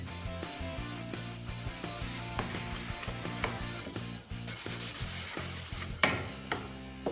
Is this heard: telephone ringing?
no